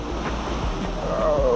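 Ocean waves and wind heard from a DJI Avata 2 drone flying low over the water, a continuous rushing roar with steady wind buffeting and a faint rising tone near the end, no talking.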